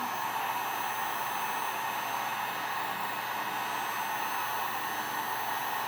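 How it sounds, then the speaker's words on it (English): A heat gun set to low blows a steady, even whoosh of hot air over a stainless steel tumbler, a continuous moderate rush with no breaks. "I'm going to turn my heat gun onto low and just warm up the place where I'm going to be putting the decal"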